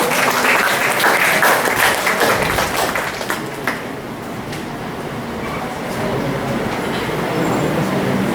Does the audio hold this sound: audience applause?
yes